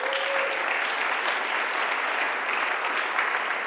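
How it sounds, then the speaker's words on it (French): Audience applause at a tech talk, steady dense clapping from a crowd that holds evenly throughout. "je vais vous présenter Julie, que je vous demande d'acclamer,"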